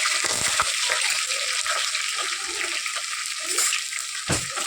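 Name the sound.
curry leaves, green chili and cumin frying in oil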